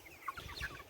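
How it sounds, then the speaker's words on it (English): Fat meat chickens kept in a truck-cap coop on a rainy-day farm cluck a few times, soft and close, with no one talking. "These fat little chickens."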